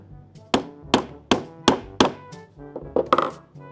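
A wooden stake is tapped lightly with a hammer, giving five or six evenly spaced, close wooden knocks followed by a quicker cluster of softer taps, with no talking.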